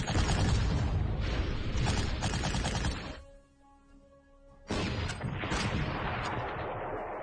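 Heavy 88 gun artillery fires in the Panzer Corps strategy game, dense booming blasts and rumbling impacts filling the sound, a brief quieter lull in the middle before the barrage resumes loudly.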